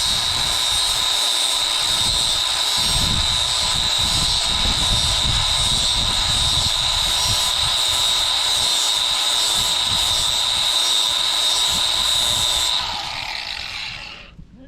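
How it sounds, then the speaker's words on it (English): Angle grinder shaving down a steel excavator track pin, a loud steady high-pitched whine running continuously at close range for about thirteen seconds before winding down at the end. "I'm gonna trim a little bit off of this shave a little bit off of this pin with a grinder"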